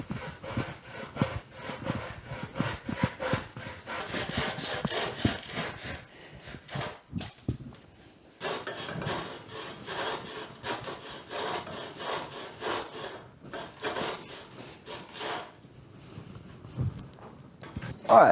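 A restored hand saw over 125 years old cuts through wood in steady back-and-forth rasping strokes, loud and close, with a short pause midway before the sawing picks up again.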